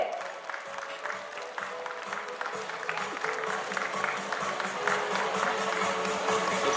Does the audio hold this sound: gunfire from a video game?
no